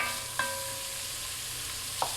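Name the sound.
garlic, peppers and celery sizzling in bacon fat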